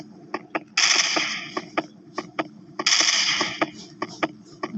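Rapid video game gunfire cracks out in two sustained bursts, with sharp single shots popping steadily in between, loud and close.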